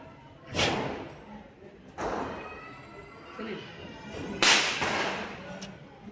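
Three sharp cracking firecracker bangs ring out a second or two apart, each trailing off into a brief echo, with faint background noise between them.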